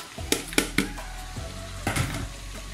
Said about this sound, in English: add small onions here.